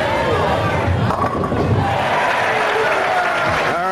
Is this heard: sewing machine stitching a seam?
no